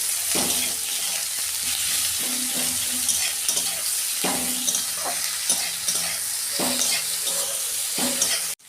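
Salted onions frying in a pan for chicken curry, a continuous close sizzle broken by repeated scraping stirs of a spatula, with no talking.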